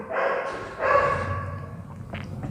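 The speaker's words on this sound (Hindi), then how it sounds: "डॉग का साउंड आ रहा तो उसको इग्नोर कीजिएगा, वो भौंकता रहता है।" A dog barks a few times in the background, muffled and moderately distant, a couple of separate woofs with a quieter yip near the end.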